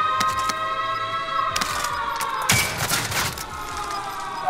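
Gunfire in Call of Duty: Modern Warfare, sharp broadband bursts crackling over a steady siren-like tone, with a heavier flurry of shots in the second half.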